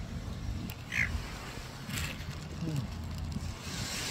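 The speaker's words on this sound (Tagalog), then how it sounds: "Merong ibon." A brief bird call rings out once against a steady outdoor background hum at a beach, moderately faint and a little distant.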